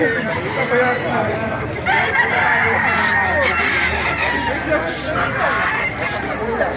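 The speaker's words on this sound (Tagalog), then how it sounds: "Papakita ko na lang sa inyo yung mga manok dito sa Baliwag." Chickens clucking and a rooster crowing amid a lively outdoor babble of voices at a market in Baliuag, birds close and fairly loud throughout.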